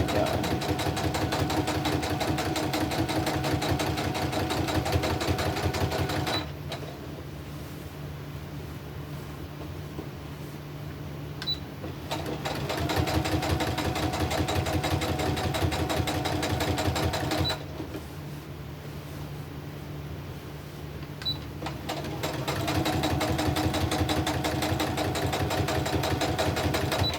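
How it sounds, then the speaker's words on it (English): A sewing machine stitches a crumb quilt block in steady fast mechanical runs, a continuous whirring drone that slows and softens twice in pauses before picking back up, close and alone with no talking. "I'll get a little bit more straight with my sewing machine"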